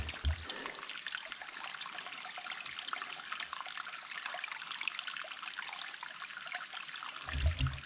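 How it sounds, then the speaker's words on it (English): Water trickles and flows inside Lake Cave, a soft, continuous babbling stream heard close up and faint, with a couple of louder low splashes or bumps near the start and end. "just want to show how this water is flowing here"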